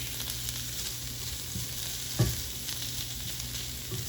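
Sausage searing gently in a pan during an oven-style king crab and shrimp cook, a continuous close sizzle with a brief louder scrape or stir near the middle and no talking.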